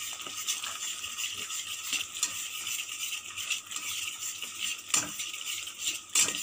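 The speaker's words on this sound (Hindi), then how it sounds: "ये मसाला अच्छी तरह भून जाएंगे।" Spice masala fries in a pan for a Rajasthani vegetable dish, a steady bright sizzle running throughout with light scraping, rattling stirs and occasional sharper clinks, close and without speech.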